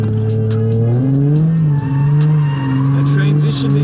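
A car drifting a figure 8 howls with sustained tire squeal and a steady engine drone that rises and dips slightly as it slides through the turn, loud and close.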